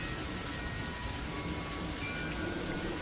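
Steady rain falls continuously, a dense even hiss with no pauses and no voices.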